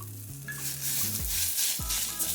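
Moringa leaves sautéing in hot oil with salt added, giving a steady close sizzle with stirring scrapes and a few low clanks of the utensil against the pan.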